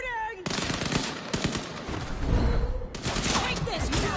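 Rapid gunfire in Vampire The Masquerade Bloodlines 2, a loud burst of shots crackling steadily for several seconds with a short pause, under shouted voices in a street firefight.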